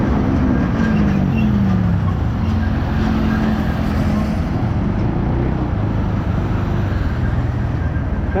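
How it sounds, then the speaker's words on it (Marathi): A rumbling roar of a train moving through a metro station, a steady loud low-frequency drone with a faint rising tone early, continuous and close for the whole stretch. "हे पाहू शकता इथलं मेट्रो स्टेशन"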